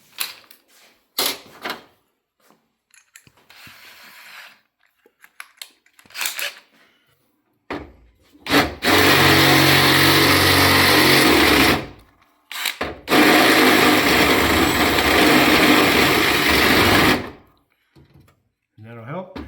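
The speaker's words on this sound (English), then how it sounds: "drill the whole top side of our rivet" A power drill bores out a rivet on the passenger door of a Ford E350 van. It whines loudly in two sustained runs of about four seconds each, with scattered handling clatter and a brief voice before and after.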